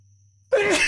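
A single sudden sneeze bursts out close and loud after near silence with a faint background hum, breathy and sharp.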